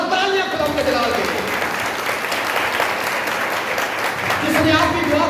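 A church congregation breaks into loud, sustained applause, a dense wash of clapping hands that continues steadily from start to finish with no pauses.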